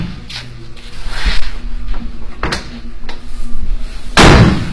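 Doors on a 1930-1931 Ford Model A sedan fitted with bear claw latches shut several times, giving a series of sharp clicks and thuds that end in one louder slam.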